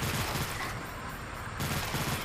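Video game gunfire aimed at zombies comes as a dense, loud fusillade of rapid shots that pauses briefly and then resumes.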